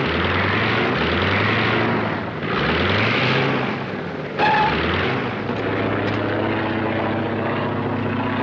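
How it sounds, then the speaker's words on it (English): A propeller airplane engine drones steadily in flight, loud and close, with a continuous low hum and throbbing pitch shifts that rise and fall over several seconds; no voices are heard. "Hey, I didn't know you could drive a plane."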